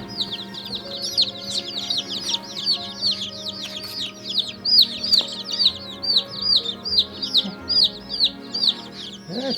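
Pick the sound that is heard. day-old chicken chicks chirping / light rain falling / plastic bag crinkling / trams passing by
day-old chicken chicks chirping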